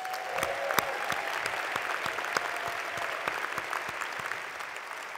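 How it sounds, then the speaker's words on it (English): Steady applause from a large audience at a 2015 State of the County event fills the hall, with dense clapping continuing evenly throughout and no voices over it. "Let's give them a round of applause."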